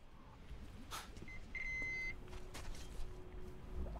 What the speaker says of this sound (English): It keeps beeping.